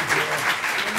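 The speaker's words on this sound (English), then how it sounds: "One more round of applause for the candidates." Audience applause for gubernatorial candidates at a San Diego forum, a steady wash of clapping for about a second with faint speech mixed in.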